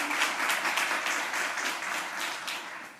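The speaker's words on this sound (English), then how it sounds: "Can we give all of our sponsors and partners and resource members a round of applause?" Audience applause at a domestic violence symposium, honoring sponsors and partners: a sustained, fairly distant patter of many hands clapping at even strength throughout, with no speech over it.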